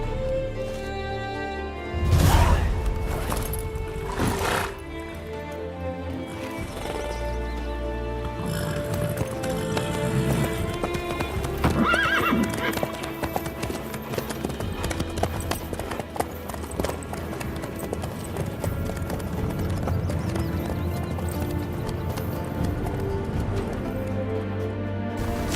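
A horse gallops at length in the game The Witcher 3, with a steady drumming hoofbeat and occasional neighs over rich background music and game ambience, loud and close throughout.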